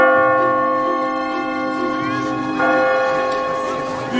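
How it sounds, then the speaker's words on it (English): A church bell rings out in a movie scene, the bell of San Marco, its sustained tonal strikes steady and fairly loud with a fresh stroke swelling partway through, while an actor's voice is heard faintly over it. "The bell of San Marco!"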